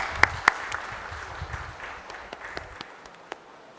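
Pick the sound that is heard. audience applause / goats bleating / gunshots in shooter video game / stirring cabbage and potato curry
audience applause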